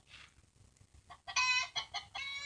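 A hen in a backyard coop clucks her egg song after laying, starting with soft low clucks and building into loud, close, bright cackling calls in quick bursts.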